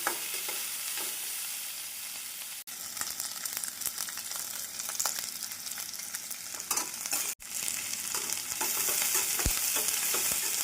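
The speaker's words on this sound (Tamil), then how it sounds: "வெங்காயம் போட்டு 1 நிமிடம் வதக்கி நாம் கறிவேப்பிலை சேர்த்து விடலாம்" Chopped onions and curry leaves sautéing in a pan for a plain veg salna, with a continuous loud sizzle and frequent scraping stirs throughout, no voices.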